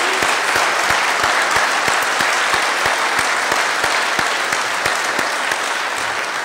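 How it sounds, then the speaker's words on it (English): Sustained loud applause from an audience for the awardees at an awards event, steady and dense with sharp individual claps, no talk on top. "Can we have a hand for all of our awardees?"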